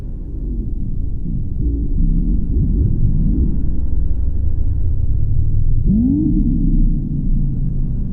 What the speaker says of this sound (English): Sirocco, has ambient sounds in the caves under the main hill, which sound a lot like the Striders from the Half-Life series